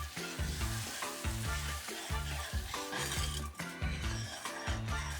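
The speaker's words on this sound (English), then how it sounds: "Then add the remaining milk and continue mixing until fully combined." Milk is whisked into caramel in quick, regular strokes, a steady rhythmic scraping and swishing of about two beats per second, close and fairly quiet.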